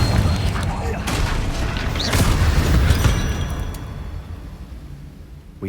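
Confringo spell explosions in the video game Hogwarts Legacy, a dense rumbling boom and crackling blast texture that swells for about three seconds and then fades, loud and close, with a voice partly mixed in.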